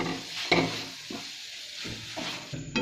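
Soya bean kadai being stirred in a frying pan, a steady sizzle under repeated scraping strokes of a spoon against the pan, close and alone.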